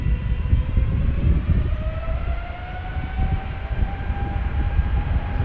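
Jet engines on a KLM Boeing 777-300ER spool up for departure at Amsterdam Schiphol, a steady broad roar with slowly rising whine tones, heard from a distance without speech.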